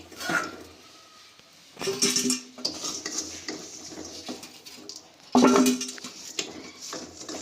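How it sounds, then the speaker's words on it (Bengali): Boiled amla is scooped out of a pot with a metal strainer, giving close clattering scrapes and clinks of utensil against pot in a few distinct bursts, with quieter handling noise between them. "তো আমলাগুলো আমরা একটা এই যে ছাঁকনি দিয়ে তুলে নিচ্ছি"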